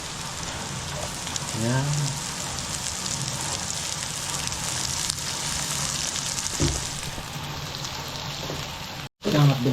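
Onions fry in a pan with a steady, crackling sizzle that runs throughout, and a voice speaks briefly over it.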